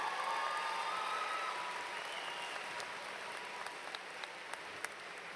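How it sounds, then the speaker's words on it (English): Audience applause for graduates at a 2010 graduation ceremony, a steady broad wash of many hands that fades gradually over several seconds and is heard without speech. "I'm going to ask at this time that everyone give our graduates a round of applause"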